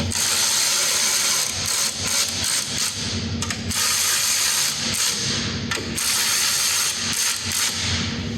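A ratchet wrench undoes two nuts on the fuel filter of a Nissan Qashqai. Loud, close, rapid clicking comes in bursts separated by short pauses, with no talking.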